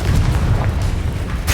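Confringo blasting spell explosion in Hogwarts Legacy: a loud, deep booming blast that rolls on for about a second, with another sharp hit at the end.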